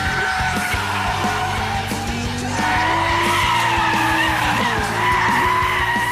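A Hartge H50 BMW 3 Series fitted with the M5's V10 engine roars continuously while driving hard, with sustained tire squeal and skidding layered over the engine note.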